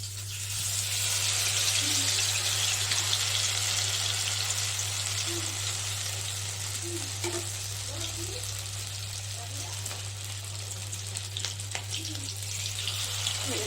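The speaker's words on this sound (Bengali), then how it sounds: "এই যে বেসনের গোলা ডুবিয়ে এগুলি এক এক করে ভেজে নেব" Shillong chillies coated in gram flour batter deep frying in hot oil, a loud, dense, continuous sizzle with occasional soft bubbling pops, heard close and alone.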